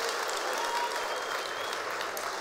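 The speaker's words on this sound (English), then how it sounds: "let's have a round of applause for everyone coming in from all over the world" Steady applause from a large audience at a cannabis industry conference keynote, dense and continuous clapping filling the room with no pauses.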